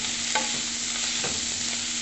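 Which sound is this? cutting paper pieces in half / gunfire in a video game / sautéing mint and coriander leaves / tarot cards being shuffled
sautéing mint and coriander leaves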